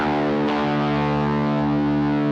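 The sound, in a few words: electric guitar strings six and four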